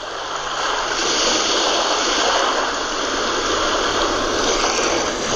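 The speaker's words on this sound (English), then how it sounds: "Or ocean waves." Ocean waves setting on a white noise machine, heard as a continuous loud rushing hiss like surf or running water, steady and even with only gentle swells in level, no voices.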